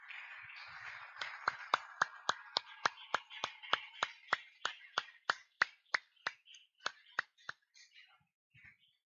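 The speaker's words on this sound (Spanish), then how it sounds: "Vamos a un aplauso a nuestro Señor Jesús" A church congregation claps for Jesus at the close of a service, about twenty sharp, evenly spaced claps in unison that speed up slightly and then trail off into scattered final claps against a quiet background.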